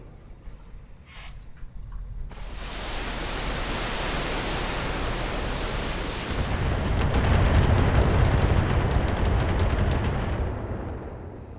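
Turrets open fire in the mech video game Battletech. A continuous roar of gunfire and blasts rises after a brief quiet opening, swells louder midway, then cuts off near the end.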